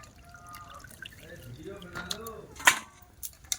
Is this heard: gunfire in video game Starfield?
no